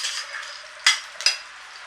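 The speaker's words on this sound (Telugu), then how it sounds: "కొద్దిగా ఫ్రై చేసుకోవాలి విధంగా ఫ్రై చేసుకుంటూ" Onions with shahi jeera frying in oil in a pan for bagara rice, a soft steady sizzle with two sharp scrapes of a spoon stirring against the pan.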